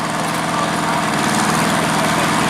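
Diesel pulling trucks in the smoker class roar at a nighttime tractor pull, a steady, loud, rumbling engine drone with dense low throbbing that fills the whole stretch without letup.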